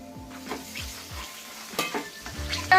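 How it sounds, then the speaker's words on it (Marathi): Onion, garlic and masala paste fry in hot oil for a village-style chicken masala, a steady close sizzle broken by repeated stirring scrapes and a louder clatter of the pan near the end. "आपली कांदा लसूण मसाला जो आहे तो तेलात छान असा भाजून घ्यायचा"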